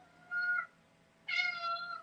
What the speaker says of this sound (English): You're a spoiled kitty. She's very vocal.